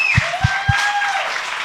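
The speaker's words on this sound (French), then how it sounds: "Vraiment, là, applaudissez-les." An audience at a French-language talk show applauds the guests: dense, steady clapping fills the whole stretch at moderate loudness, with a few low thumps near the start.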